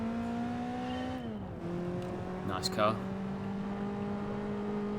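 A Peugeot 205 Turbo 16 race car engine in the video game Gran Turismo 4 drones with a steady harmonic whine, its pitch dropping as it shifts, while a person briefly speaks over it.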